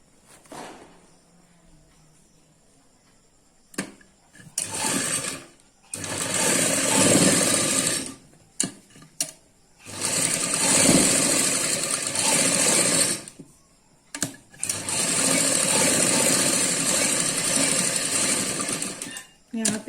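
An electric sewing machine stitches a suit in several bursts of rapid mechanical whirring, separated by pauses where someone speaks.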